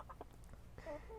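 Seven backyard chickens about four and a half months old clucking close by, a few short soft calls early on and a busier burst of clucks toward the end.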